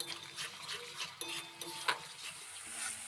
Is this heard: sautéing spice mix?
yes